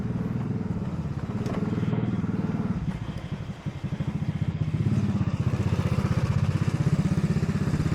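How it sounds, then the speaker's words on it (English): Motorcycle passing behind a cyclist on a Bangkok street: a putting engine rumble that swells and fades with rapid pulsing firing beats, moderately close amid faint traffic. "there's a motorcycle behind me."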